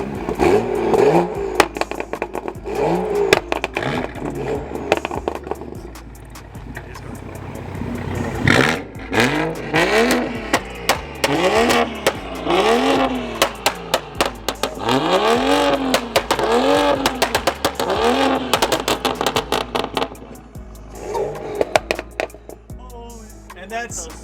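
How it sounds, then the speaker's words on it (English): Loud, repeated engine revs from BMW F30 335i cars with MHD tunes, rising and falling in sharp sweeps one after another in a rev battle, with bursts of crackle and people talking between pulls. "It's a rev battle."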